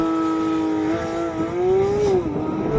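A video-game car launches from a standstill with traction control on and warmer tyres, its steady engine drone climbing in pitch as it accelerates hard, loud and close throughout.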